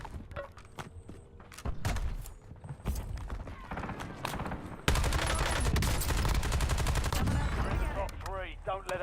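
Rapid bursts of automatic gunfire crack through a Warzone battle royale match, sparse single shots at first, then a dense, sustained barrage near and loud, with voices talking over parts of it.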